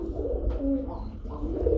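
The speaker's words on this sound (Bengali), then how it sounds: "পলেশ লাইন কবুতর স্প্যাঞ্জেল কালারের মধ্যে একদম বড় সাইজের কবুতর" Pigeons coo softly nearby, low throaty calls repeating over a quiet background hum.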